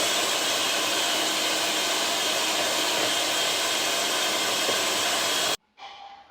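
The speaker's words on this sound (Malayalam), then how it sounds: "ഇത് നല്ലോണം നമ്മൾ ബീറ്ററിലിട്ടിട്ട് ബീറ്റ് ചെയ്തെടുക്കാം" An electric beater whipping eggs in a bowl for a cake, with a loud continuous whirring drone close by that cuts off abruptly near the end, leaving faint clatter.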